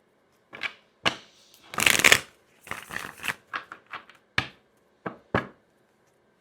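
Oracle cards with animal spirit designs being shuffled by hand, a series of crisp riffling and tapping bursts up close, with a longer loud riffle near the start and sharp single snaps spaced out after it.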